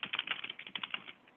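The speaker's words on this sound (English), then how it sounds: "Oh, Joe typing." Rapid clicking of a computer keyboard as someone types in quick irregular bursts, close and clear, with no voices over it.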